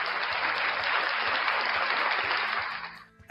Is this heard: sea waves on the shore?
no